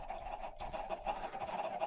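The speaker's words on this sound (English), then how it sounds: "those chickens don't normally make that much noise" Chickens clucking in the Minecraft SkyFactory 3 game, a quiet busy run of overlapping clucks repeating throughout.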